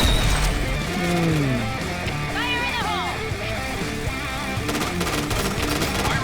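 Shotgun fire in PUBG, with sharp blasts and clattering game effects over continuous background game noise and music, while someone talks throughout.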